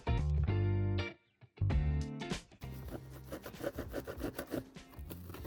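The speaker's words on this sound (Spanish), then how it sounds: "Con la ayuda de una lija, remataremos el recorte" Sandpaper rubbed by hand along the trimmed cut edge of a 2013-2019 Chevrolet Trax plastic bumper, giving close, dry scraping strokes in bursts with short pauses, alone.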